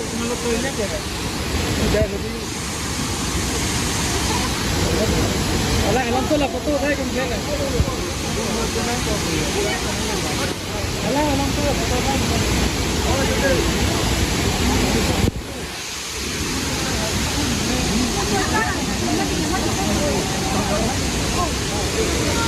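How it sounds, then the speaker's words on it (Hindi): The Krangsuri waterfall in the West Jaintia Hills pours with a loud, constant rushing roar that fills the whole stretch and masks other sound. "आवाज़ भी पूरा कवर कर नहीं सकेगा क्योंकि पानी का आवाज़ बहुत है"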